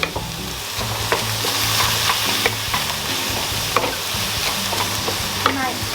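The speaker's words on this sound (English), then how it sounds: "Straight in the mixture of veg, mushroom, aubergine," Mixed vegetables, mushroom and aubergine fry in an oiled pan for a Thai green curry, a continuous loud sizzle broken by occasional stirring scrapes and clicks.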